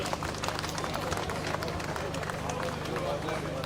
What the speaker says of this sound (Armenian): ծափահարենք մեր ընկերոջը